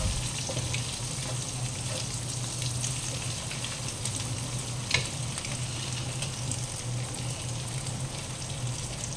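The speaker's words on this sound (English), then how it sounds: "let's toss our eggs around a bit more" Eggs sizzle steadily in a hot pan while being tossed for fried egg noodles, giving a constant crackling fry with occasional stirring scrapes and clinks, and no one speaks.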